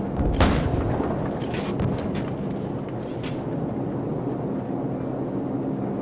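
Heavy booms and blasts from AC-130 gunship cannon fire in the Call of Duty 4: Modern Warfare mission Death From Above, several loud impacts early on followed by rumbling and scattered bangs fading into a low drone.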